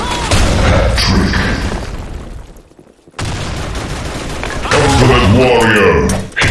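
A grenade detonates in the online shooter Blackshot, a loud gunfire-heavy burst that drops into a brief near-silence before battle noise and game voice callouts resume.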